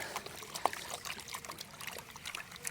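Water sloshes and trickles in a gold pan during panning, rocked straight back and forth in the manner of a sluice box, with soft close splashes and drips heard alone.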